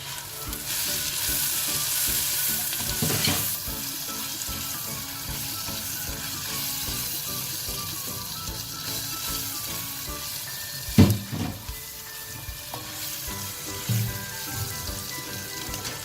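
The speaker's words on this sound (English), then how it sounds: "When the onion gets a little bit brown, I put the masalas, the same masalas like turmeric, chili powder and garam masala" Browned onion sizzles steadily in a pan with turmeric, chili powder and garam masala for beef curry with pumpkin, a continuous close frying hiss broken by a few louder stirring scrapes and clatters.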